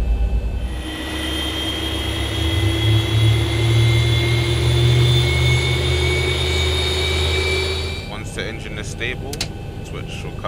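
Jet airliner engine spooling up in the X-Plane 11 flight simulator, a steady loud whine and rumble with rising tonal lines that holds for about eight seconds, then gives way to intermittent clicks and short tones.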